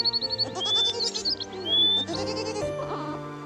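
Goats bleat in a cartoon, several wavering cries overlapping over a bed of background music with no talking.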